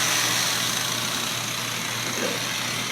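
A rotary buffer running at 600 RPM hums steadily at low speed, a constant motor drone with a faint whine, moderately close and uninterrupted.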